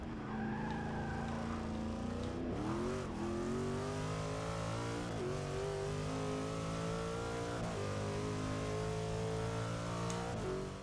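Corvette C7.R race car from Forza Motorsport 6 revving hard and accelerating, its engine note rising through gears with brief dips at shifts, loud and steady throughout with a hint of tire squeal.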